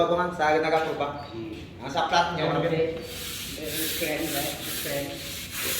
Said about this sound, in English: y'all just start doing some sanding